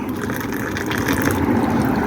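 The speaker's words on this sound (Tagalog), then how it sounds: "Ito guys, lagyan ko na ng tubig." Hot water poured into a cup of coffee, a steady close trickling and filling sound that runs continuously and swells slightly toward the end.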